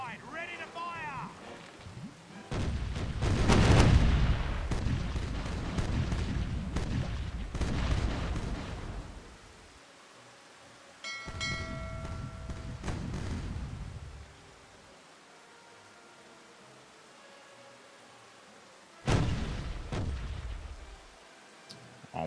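Ship cannons in Caribbean Legend boom in a heavy broadside, a rolling cluster of loud blasts followed by a second burst and a final report, with someone talking between them.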